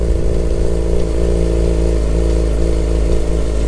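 A Yamaha R6 motorcycle engine idles steadily just after its first start on a new battery, a loud, close, continuous low rumble with slight revving fluctuations and no voices.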